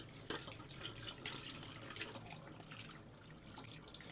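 A kitchen tap runs into a sink while raw chicken is washed, giving a soft continuous splashing hiss with small irregular spatters, fairly quiet and close, with no talk.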